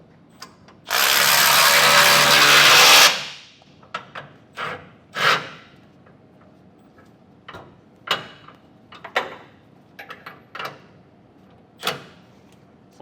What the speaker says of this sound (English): You want to tighten down the bolts, the 4 bolts on the bottom first.